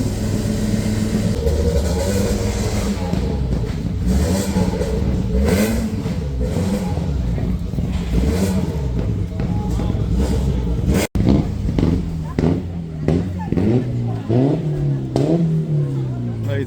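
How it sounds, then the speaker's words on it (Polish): Rally cars at a legends rally event rev and accelerate past in the background, engines rising and falling in repeated sweeps under a steady roar, with one sharp crack midway. "tu mamy w tle cały czas rajdowe głosy"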